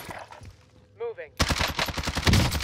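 Rapid automatic fire from a Streetsweeper shotgun in Call of Duty: Warzone rattles in a dense burst, preceded by a brief spoken word and quieter game sounds.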